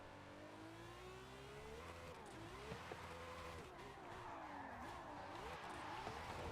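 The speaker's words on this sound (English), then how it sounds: "It feels so weird to drift this car." A car drifts in Forza Horizon 5, its engine revving and wavering in pitch as the tires squeal through a sustained slide, steady and moderately loud with no talking.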